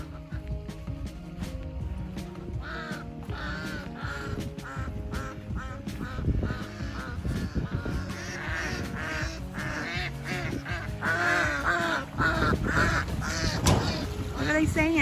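Ducks quack around a refilled pond at a New Mexico campground, with bird calls scattered over a steady outdoor wash and people talking nearby throughout.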